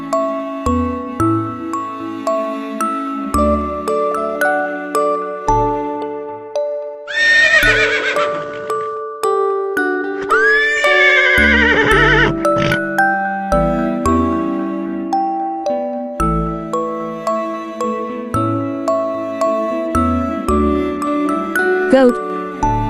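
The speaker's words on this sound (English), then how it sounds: "Horse." Two loud horse neighs and whinnies ring out over a backdrop of jingling, chiming music with clip-clop beats.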